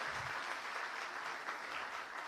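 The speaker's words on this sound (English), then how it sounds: "Can we have a round of applause" A brief burst of steady applause from an audience at a children's awards ceremony, faint and even throughout.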